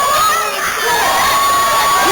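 An auditorium crowd at a wrestling match cheers and screams loudly and without a break, a dense roar of many voices with high-pitched shouts cutting through.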